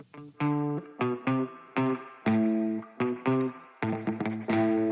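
A clean electric guitar plays a short, bouncy riff of plucked chords and notes, each ringing briefly with a slight springy echo.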